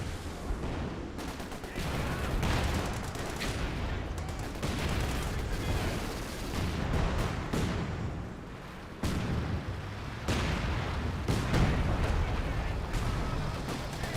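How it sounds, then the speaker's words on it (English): Mortars raining white phosphorus rounds in the Company of Heroes 2 strategy game, repeated heavy thumps and bursts over a dense, constant wash of battle noise and scattered gunshots. "White Phosphorus from mortar cover now being summoned"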